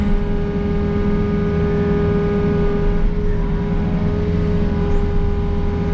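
A Case 260 excavator runs beside a Peterbilt truck while hauling fill, its diesel engine humming loud and steady with a constant low drone and faint whine throughout.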